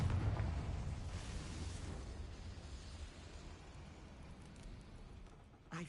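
A Confringo fire spell bursts in Hogwarts Legacy with a booming low explosion that rumbles and fades over several seconds, followed by a brief sharp pop at the end.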